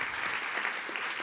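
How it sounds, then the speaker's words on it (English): An audience applauds at the MIT $100K Accelerate contest demo show, a dense, even clapping from a crowd that holds steady for the whole short stretch. "Let's give him one more round of applause."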